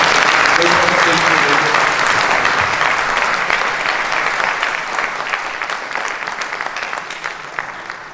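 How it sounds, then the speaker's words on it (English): A crowd at an NYPD precinct community policing kick-off breaks into dense, sustained applause that stays loud for several seconds and then gradually tapers off toward the end. "So can we do another round of applause?"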